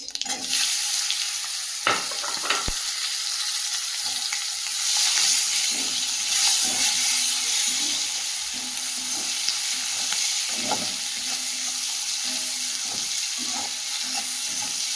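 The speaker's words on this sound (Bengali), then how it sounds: "পেঁয়াজটা বেশ ভালোভাবে ভেজে নেব" Chopped onion frying in hot oil with whole cumin and two bay leaves, a loud continuous sizzle up close, with occasional knocks of a stirring spoon against the pan.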